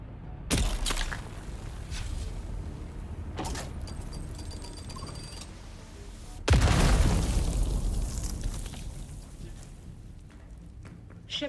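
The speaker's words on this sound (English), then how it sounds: "Oh, shit. This is a bomb." A bomb goes off in a Dune video game, a sudden heavy blast that cuts in over quieter ambient rumble and then trails off into a long, fading roar, with a smaller thump earlier.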